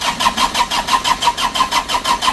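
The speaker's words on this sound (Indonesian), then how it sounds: "Kita tes starter dulu. Kita mau hidupkan." A rebuilt Isuzu Traga engine being cranked by its starter motor, a loud close rhythmic whirring churn of about fourteen even pulses that does not yet catch into a running idle.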